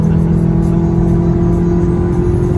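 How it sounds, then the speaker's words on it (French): Golf 7 GTI 230 hp engine under kickdown acceleration, heard from inside the cabin as a loud, steady low hum with a sustained mid-range tone, no speech over it. "si je fais le kick down"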